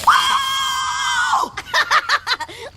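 A sustained high scream rings out for about a second and a half while marshmallows are roasted at a woodland campsite, followed by a few short, breathy bursts like gasps or laughter.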